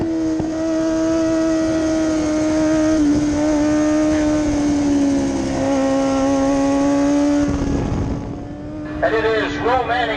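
Racing motorcycles at full throttle in an AM 600 Extreme race at Grand Bend, loud sustained engine whine with shifting pitch as bikes pass, under continuous commentary.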